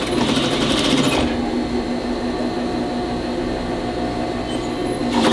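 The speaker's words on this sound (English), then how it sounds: "stitch right along your seam, or on your fold, right along your fold." A sewing machine running fast and steadily as it stitches along the seam of a boy's pant leg being altered into shorts, a loud continuous whirring that pauses briefly and then restarts.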